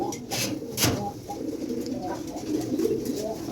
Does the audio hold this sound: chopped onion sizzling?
no